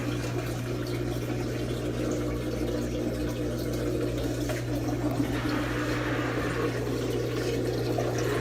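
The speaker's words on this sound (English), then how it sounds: "we are ready for the drain, second drain, to wash it out" A KUPPET compact twin tub portable mini washing machine drains its water after a second wash, giving a steady, continuous rush of liquid over a low pump hum that runs throughout. No one speaks.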